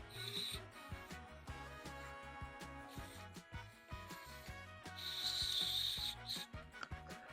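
An airbrush cup and body are polished by hand with liquid reamer, giving a busy, close rubbing and scrubbing sound with repeated short strokes and a brighter, stronger scrub partway through.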